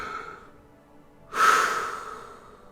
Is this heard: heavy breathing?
yes